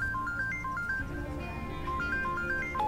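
A telephone ringing unanswered, a repeating electronic melodic ring pattern looping steadily at moderate level over low background music, with no voices.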